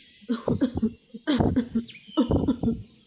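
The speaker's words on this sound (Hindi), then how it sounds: "माँ जी को जोरों की खांसी उठ रही है" An elderly woman character in a Hindi cartoon coughs hard in three fits of rapid, raspy bursts, separated by short pauses, close and fairly loud.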